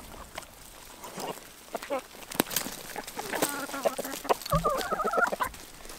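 Chickens cluck and a rooster gives short calls close by, amid scratchy farmyard noise and a brief low thump, with a few voices now and then.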